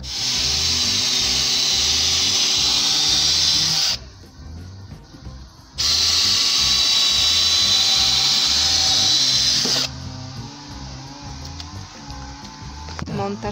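A high-pitched power tool cutting wood whines loudly in two long bursts, cutting off between them, with quieter rattling and faint voices in the pauses.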